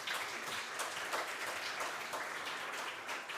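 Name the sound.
audience applause for conference panelists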